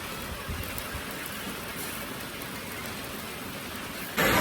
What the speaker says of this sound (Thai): เสียงฝนตกแห้ง